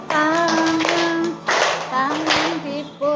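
Children clap their hands during a classroom dance activity, a few short bursts of claps between a teacher's sung or spoken instructions, with voices heard throughout.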